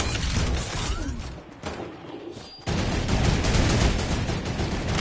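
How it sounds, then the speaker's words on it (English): Turret gunfire in a squad-based shooter video game: a dense, loud fusillade of rapid shots rolls on almost without pause, dipping briefly before surging back even harder with clattering, shattering impacts. "Oh, I have a turret, I have a turret!"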